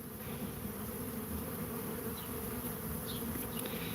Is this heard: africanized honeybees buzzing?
yes